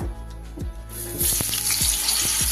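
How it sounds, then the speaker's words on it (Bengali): Diced potatoes, cut large and washed, dropped into hot oil already used for frying chhana fritters, setting off a loud steady sizzle with a few clinks of a spoon against the pan. "বড় সাইজের আলু ডুমো ডুমো করে কেটে ধুয়ে রেখেছি, সেটা দিয়ে দিলাম। ভালো করে আলুটা ভেজে নেব।"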